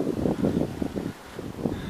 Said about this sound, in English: And I'm sure the wind is bothering you guys now